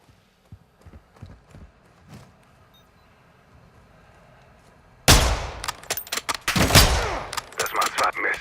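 In the game Call of Duty: Modern Warfare II, after a quiet stretch of soft taps, a sudden volley of sharp gunshots erupts, rapid bursts cracking loudly in close succession.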